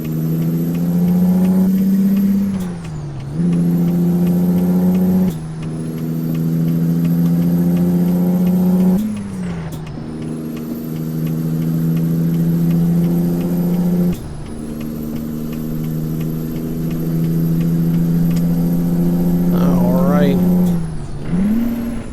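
A Peterbilt 389 truck engine drones loudly in American Truck Simulator, rising and falling as the driver works through gears, with several sharp dips where shifts cut the revs, including a missed shift.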